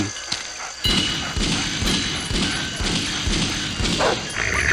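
Dogs barking in the bayou level of the video game Shadowman Remastered, with repeated close barks and yips and dull thuds in a steady, rapid rhythm.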